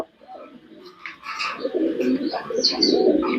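A young red-eyed female racing pigeon coos softly at close range, low throaty burbling rising and swelling over a few seconds with no talk.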